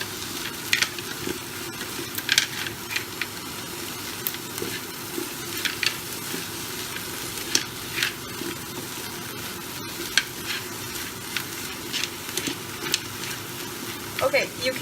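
Prawns and broccoli frying in a pan for a prawn and clam spaghetti, giving a continuous close sizzle with scattered crackles and pops and occasional scraping stirs.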